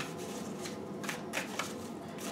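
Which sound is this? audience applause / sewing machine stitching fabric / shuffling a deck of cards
shuffling a deck of cards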